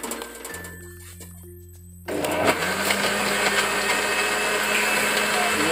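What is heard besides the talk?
blender blending turmeric with water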